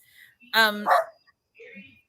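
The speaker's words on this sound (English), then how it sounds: "Now you get to hear my dog barking." A dog barks twice in quick succession, sharp and fairly close, then a softer whimpering yip trails off in an otherwise quiet room.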